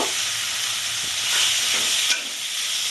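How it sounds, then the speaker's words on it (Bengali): Spice masala with tomato, turmeric and salt sizzles and hisses in a pan for Bengali-style crab curry. A loud, continuous fry, with a few soft stirring scrapes and no talk. "দিয়ে মশলাটা আমি এখন কষব"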